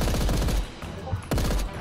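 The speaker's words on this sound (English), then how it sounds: "There's so much incoming fire." Rapid bursts of gunfire from a D-Day beach assault in the video game Paint the Town Red rattle close and loud, with dense overlapping shots breaking off briefly before another volley starts.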